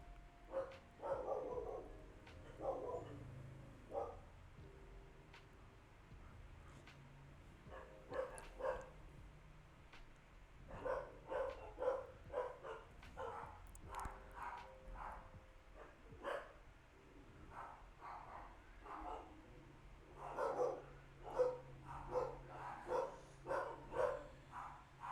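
Several dogs bark excitedly at home, a run of sharp, repeated barks in uneven bursts at moderate distance, with occasional yips between and no talking.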